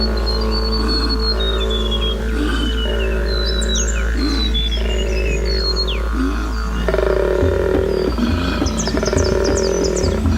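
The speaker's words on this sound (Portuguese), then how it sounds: "Os machos koala fazem esse barulho reverberante ao inalar e exalar ao mesmo tempo." Male koala bellowing: deep, guttural, reverberant roaring that is produced while inhaling and exhaling, with rasping pulses and rising and falling tones, loud and close and continuing for about ten seconds.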